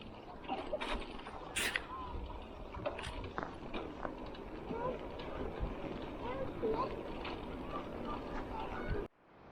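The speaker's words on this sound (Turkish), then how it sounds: "Burası bayağı bir rüzgarlı." Wind buffets the microphone in rough, low rumbling gusts on a quiet residential street in Vlaardingen, Netherlands, with faint street sounds underneath, until it cuts off abruptly at the end.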